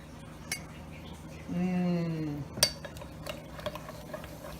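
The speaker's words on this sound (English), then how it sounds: "we're going to take a little bit of our butterbeer mixture and we're going to stir this in." A spoon stirs butterbeer mixture into cream soda in a frosted mug, with light clinks against the glass and a short ringing tone midway, fairly close and without speech.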